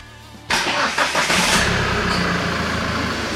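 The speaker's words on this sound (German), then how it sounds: "Starten wir mal den Motor." A Ford car's engine cranks and catches after a short silence, then settles into a steady idle, close and loud in a workshop, with no talking.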